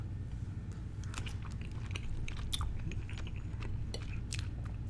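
Close, steady chewing and biting of stir fry and pasta, moist crunchy bites and mouth clicks repeating over a low continuous background hum, with no talking.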